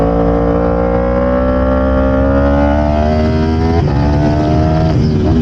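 Yamaha R1 sport motorcycle engine on a race track, a loud steady drone with pitch rising smoothly through the revs, a brief dip at a gear change, then climbing again, close and alone.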